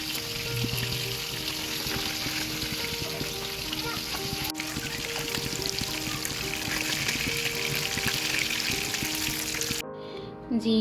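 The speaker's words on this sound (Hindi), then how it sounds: "अब मैं इसे फ्राई करूँगी" Coated potato cheese cutlets frying in oil, a dense, continuous close sizzle and crackle that runs almost the whole way before dropping off abruptly near the end.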